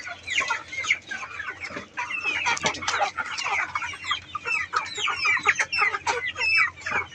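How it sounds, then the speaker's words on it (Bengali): Several chickens cluck busily and near while pecking at homemade natural feed, a lively overlapping stream of short clucks and squawks with no talk. "মুরগি খাওয়ার জন্য পাগল হয়ে যাচ্ছে।"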